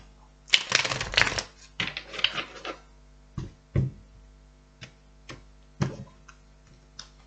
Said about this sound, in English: Just give it another good shuffle.